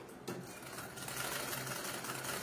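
A sewing machine stitching a semi-patiala pant starts after a brief moment and runs as a steady, close, continuous whirring hum without speech.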